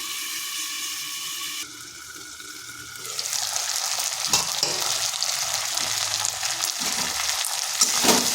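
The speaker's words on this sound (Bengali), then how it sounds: "এগুলোকে বেশ কিছুক্ষণ এইভাবে নেড়ে চেড়ে ভেজে নিতে হবে।" Pieces of gathi kochu (taro) and fish fry in a pan while being stirred, a steady close sizzle that swells after a few seconds with scraping strokes of the spoon and brief clinks.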